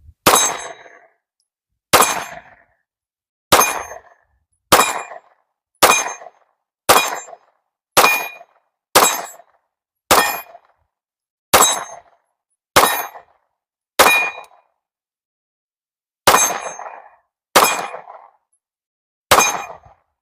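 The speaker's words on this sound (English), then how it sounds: "let's just go ahead and put 9 rounds on that target down there" Fifteen sharp metallic clangs from rounds striking a steel target downrange, fired with a red dot sight, coming in an even rhythm of roughly one per second with a short gap near the end, loud with ringing decays and no talk.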